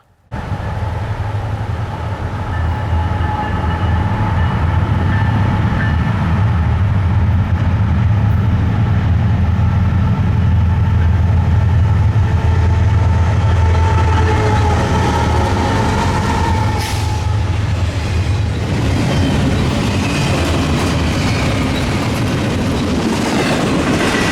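Eastbound freight train 266, hauled by GE GEVO locomotives, passes close and loud with a heavy sustained rumble, engine drone and rhythmic wheel clatter over roughly twenty-four seconds, with no talking.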